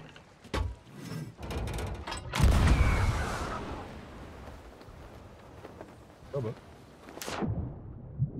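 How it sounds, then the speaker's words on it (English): A cannon fires in the pirate video game Sea of Thieves, a loud booming blast with a rumbling low tail that fades over a couple of seconds, set among clicks and mechanical clatter. "Let's take a cannon shot over the island."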